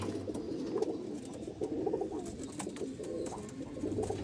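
A female Sialkoti pigeon coos softly and repeatedly, a low rolling call recurring every second or so, faint against quiet background hiss.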